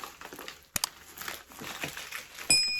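Close, crackly crinkling of a breathable plastic package being handled while unboxing a lost postal parcel, with a couple of sharp crisp snaps amid continuous rustling.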